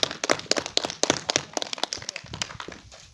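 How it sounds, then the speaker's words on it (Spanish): An audience at a school gathering in Chuapucara claps, a fairly quiet, loose run of individual hand claps with an irregular rhythm that thins out toward the end. "un fuerte aplauso"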